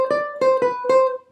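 A ukulele picks out a gypsy jazz triad embellishment, moving between a lower neighbour note and the chord tone: four bright, ringing plucked notes in quick succession, close and clear with nothing else heard.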